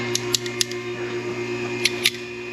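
Hose clamp pliers click and snap in a few sharp, close metallic ticks while removing a hose clamp from a car's cooling hose, over a steady low hum.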